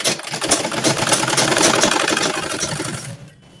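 Sewing machine running a fast, continuous stitch over the pleats of a burqa, a close mechanical whir that holds steady for about three seconds and then stops.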